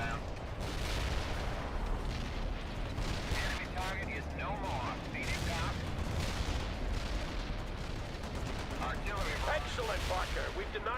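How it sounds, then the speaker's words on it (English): Precision artillery barrage in the Soviet Assault campaign of World in Conflict, a dense continuous roll of booming impacts and crackling gunfire that never lets up, with radio-style voices chattering underneath. "Precision artillery here."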